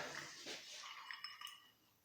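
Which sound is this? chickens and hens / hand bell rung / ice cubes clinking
ice cubes clinking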